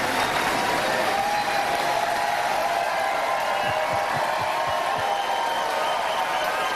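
Steady, dense audience applause at a Connecticut gubernatorial televised debate, a broad continuous wash of clapping with a few low thumps, no talk over it.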